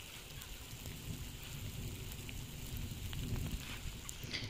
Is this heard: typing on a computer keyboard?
no